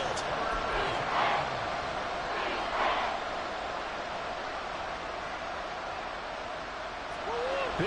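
Video game stadium crowd at an American football game with the Cardinals, a steady broad roar on third and seven, with a couple of louder swells and a short whistle-like call near the end.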